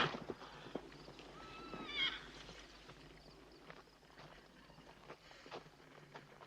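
Horses whinny near a watering stop in a 1971 Western film, with a bright neigh standing out early, over soft hoof clip-clops and faint ambient noise, all fairly quiet with no talking.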